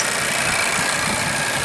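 A 2020 Honda Accord's engine idles after start-up, warming up before an oil change, with a steady, even hum and slight rattle that runs unbroken and fairly close, with no voices.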